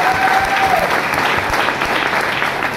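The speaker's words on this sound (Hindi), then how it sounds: "जोरदार ताली।" Loud, sustained applause from a crowd at a business team event honoring a newly appointed state team coordinator, a thick steady wash of many clapping hands with a brief tonal whistle near the start.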